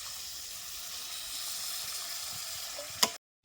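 Water poured into a hot pan of fish curry with fried vegetables hisses and sizzles steadily at moderate level, ending in a brief sharp clink before sudden silence.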